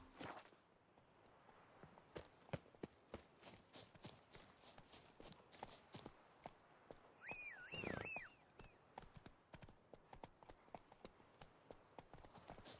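The horse Roach walks in the video game Witcher 3, with steady rhythmic hoof clip-clops throughout and a brief whinny partway through, all fairly quiet.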